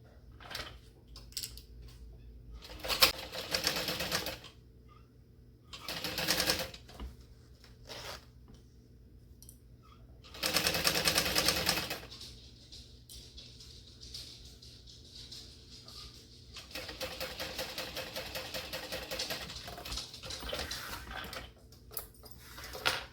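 Bursts of sewing machine stitching basting fabric against a zipper, several short runs separated by quiet pauses, close by with faint handling noises between.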